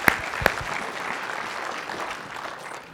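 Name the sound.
audience applause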